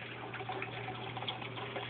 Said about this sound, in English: you just pour it all over